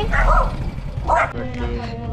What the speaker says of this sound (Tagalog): Naku po, yan ang aso.